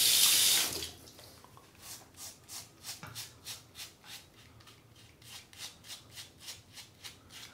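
Cartridge razor rinsed under a running tap, beginning with a brief loud gush of water, then a series of rhythmic swishing pulses as the blade is shaken in the stream, close and clear with no talking.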